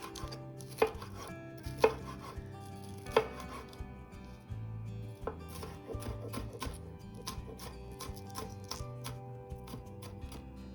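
Knife chopping vegetables on a cutting board while preparing egg bites, crisp close taps in quick irregular runs with a few louder strikes, fairly quiet with no speech.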